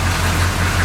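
A GMC truck engine idles in a steady, loud low rumble, close by, with no voices, in a truck that has a worn injector pump.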